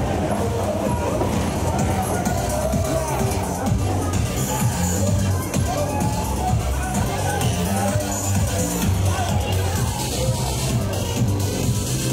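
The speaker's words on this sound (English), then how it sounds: "Sounds like there's a party going on in here" Busy crowd babble at a race-day after-party on the Universal Studios tour, many voices talking over each other with music-like thumping beneath, steady and dense throughout.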